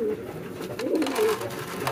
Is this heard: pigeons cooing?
yes